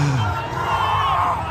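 A wrestling crowd roars and cheers continuously at CM Punk's return, a dense, excited din of many voices with whoops rising through it.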